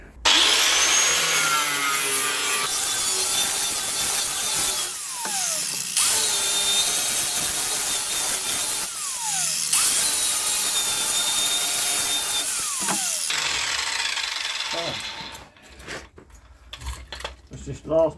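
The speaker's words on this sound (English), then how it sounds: "I've just been grinding through the corner here, and it just starts peeling away" An angle grinder bites through the rusty corner of a VW T4 Transporter wheel arch, a loud, harsh metal screech in long sustained bursts with brief pauses, ending with quieter handling noise and a voice.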